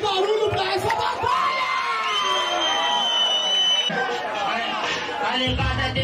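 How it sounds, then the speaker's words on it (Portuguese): Crowd at a Brazilian rap battle cheering, whooping and shouting in a loud, continuous roar with high excited voices, sustained throughout and swelling near the end. "palmas e barulho pra essa batalha!"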